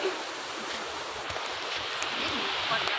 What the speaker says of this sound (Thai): นี่นะทะเลคลื่นเต็มไปหมดเลย